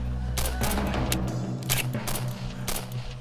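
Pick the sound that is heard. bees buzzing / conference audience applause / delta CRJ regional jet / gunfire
gunfire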